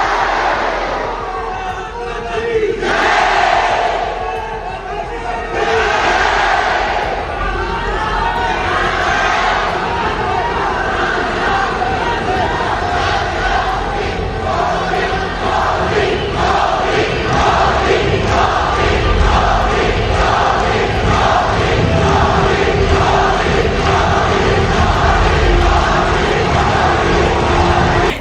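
A packed indoor hall of supporters in Oman chants Bharat Mata ki Jai, Vande Mataram and Modi slogans, a loud, continuous roar of massed voices with rhythmic shouted bursts throughout.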